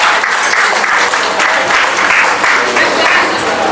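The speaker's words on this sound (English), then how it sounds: "Please a round of applause for her." Audience applauding at a reception ceremony honouring a newly inducted medical doctor, steady dense clapping sustained throughout at close range.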